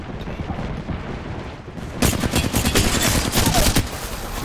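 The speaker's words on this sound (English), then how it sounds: "Getting shot at. Taking fire." Apex Legends battle noise: a low rumbling backdrop gives way halfway through to heavy, rapid automatic gunfire, loud and sustained bursts rattling close to the end.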